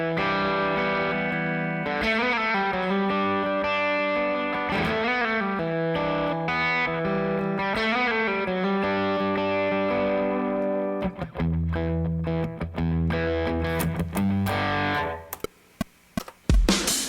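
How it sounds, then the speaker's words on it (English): Electric guitar run through an overdrive boost while tracking a song: loud, sustained distorted chords ring continuously, then thin out into sparse, choppy stabs near the end. "I'm going to put a little bit of overdrive on from the overdrive boost."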